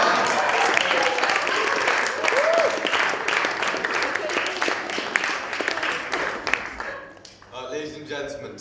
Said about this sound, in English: I would like to invite everyone finally giving him a round of applause.